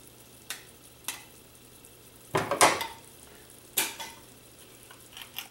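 Anchovy fillets and oil sautéing in a pot for homemade marinara, with a few stirring scrapes and clinks of a utensil, soft sizzle bursts rising at intervals over a quiet background.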